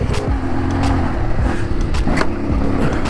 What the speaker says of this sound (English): Okay, we're bottoming out there.